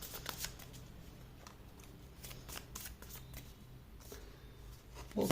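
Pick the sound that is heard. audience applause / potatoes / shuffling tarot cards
shuffling tarot cards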